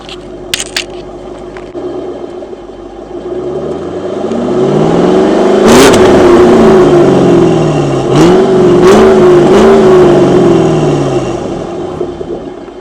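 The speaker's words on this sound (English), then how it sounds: "So this is how the car sounds by itself. Let me do a few sound clips." A car engine with its stock exhaust revs up repeatedly, rising and falling in pitch, loud and close, with a few sharp metallic clinks at the start.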